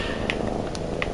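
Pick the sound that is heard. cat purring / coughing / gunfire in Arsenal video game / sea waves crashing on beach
cat purring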